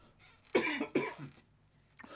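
Two or three quick coughs close to the microphone, followed by a short throaty sound after a brief pause.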